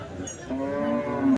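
A single cow moos nearby at a livestock market for HF and Jersey cows, a long, loud, drawn-out low call that rises and cuts off abruptly.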